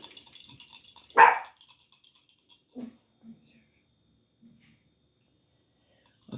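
A single sharp dog bark close by, from a dog barking out at a window, followed by a few faint low woofs in an otherwise quiet room with soft hiss early on.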